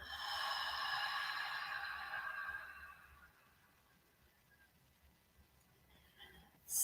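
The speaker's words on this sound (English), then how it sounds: "Listen to the sound of your breath." A slow, audible breath during a guided breathing exercise: a long, soft airy exhale that fades out over about three seconds, then near-quiet, with a short sharp intake at the very end.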